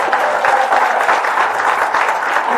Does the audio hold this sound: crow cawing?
no